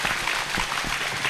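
Applause from an audience at a Vu Lan Buddhist celebration honoring the monks present, a dense steady wash of clapping heard throughout.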